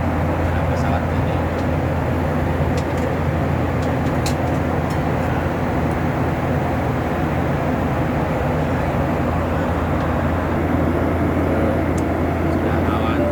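Steady broadband roar of a Lion Air airliner cabin in flight after takeoff toward Bali, a dense continuous drone with strong low rumble that holds level throughout, with faint scattered clicks on top.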